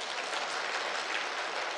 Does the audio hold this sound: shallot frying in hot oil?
no